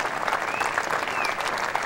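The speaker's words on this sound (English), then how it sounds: "they give him a nice round of applause" Crowd applause at a 1994 high school boys tennis state championship final, a steady dense clapping that fills the moment with no talk over it.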